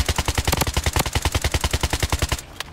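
Rapid automatic gunfire in the shooter video game Bloodstrike, a fast, even burst of loud punchy shots lasting over two seconds before cutting off, with no talk over it.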